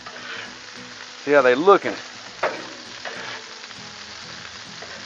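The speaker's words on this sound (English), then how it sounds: "Let's give these onions and peppers a little stir." Onions and peppers sizzle steadily on a Blackstone griddle while being stirred, the frying hiss running throughout with a short burst of stirring scrapes and someone speaking briefly over it.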